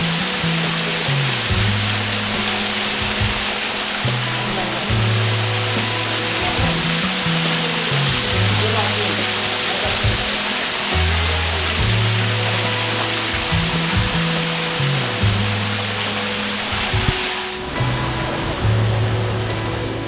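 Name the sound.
waterfall water rushing, Wei Sawdong Falls, Meghalaya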